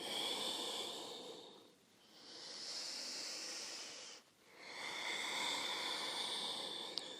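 Slow, deep breaths during a seated yoga forward fold: two long airy exhales and inhales, each a broad breathy hiss separated by brief quiet gaps, close and fairly soft with no talking.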